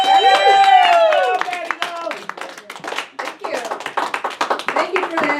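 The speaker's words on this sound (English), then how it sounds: "Give a round of applause for Patty Vaccarella" Comedy club audience at a comic night applauding a comedian: a loud rising cheer or whoop opens, then steady crowd clapping with scattered voices continues throughout.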